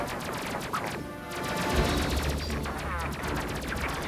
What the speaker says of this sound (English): just use missiles now.